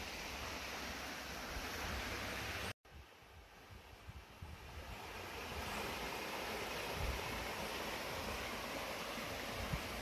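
Water rushes from a waterfall in the Portland countryside, a steady broadband roar close by that drops out for an instant before continuing unchanged.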